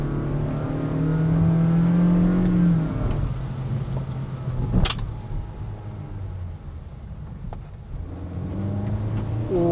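A car accelerates during a throttle response test after an octane booster is added, the engine rising in a steady close roar inside the cabin before settling and climbing again.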